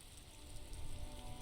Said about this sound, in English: It's reading. raining again.